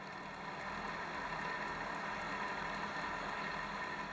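Boat engine holding steady at 2,500 RPM during an anchor pull test, a constant low engine drone with water rumble, moderately loud and unbroken throughout, no voices.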